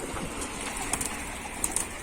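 Soft pigeon coos and light rustling outdoors on a windy day while the pigeons are fed, with a few faint clicks and flutters over a breezy background.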